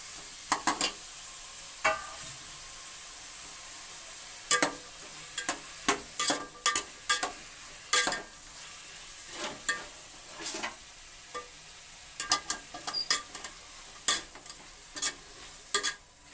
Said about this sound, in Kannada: ನಾವು ಎಷ್ಟು ಹುರಿತೀವಿ ಚೆನ್ನಾಗಿ ಅಷ್ಟು ಗಮ್ಮತ್ತು ಚೆನ್ನಾಗಿರ್ತದೆ